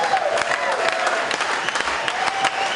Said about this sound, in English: a big round of applause to both fighters for a fantastic main event.